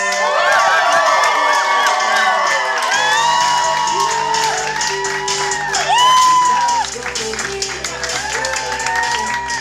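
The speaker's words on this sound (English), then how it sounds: "Let's start a big round of applause for the newly married couple, Chris and Sheila Dennis." Loud wedding crowd cheering and whooping over clapping for the newly married couple, with excited shouts and music underneath, sustained throughout.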